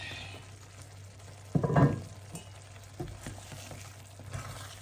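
Beef cooking in a pot, a soft steady bubbling and sizzle with a brief louder clatter and stir partway through, quiet and close with no talking.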